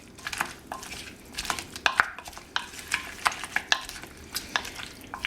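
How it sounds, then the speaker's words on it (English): Tomatoes being mixed into an olive oil, vinegar and garlic salad dressing, heard as a run of wet, irregular stirring and scraping strokes with occasional light clinks, close and moderately loud, no voices. "you want to add the tomatoes and mix them in too"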